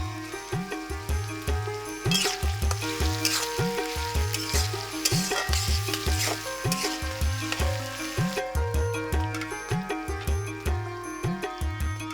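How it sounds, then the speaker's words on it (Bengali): Duck meat stir-fries with sliced green chilies in a pan, a continuous sizzle with regular, rhythmic scraping strokes throughout at a steady, fairly loud level; no voices. "খানিক্ষণ নেড়ে চেড়ে ভাজার পর এবার কাঁচামরিচের ফালিগুলো"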